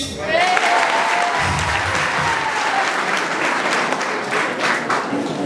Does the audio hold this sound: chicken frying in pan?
no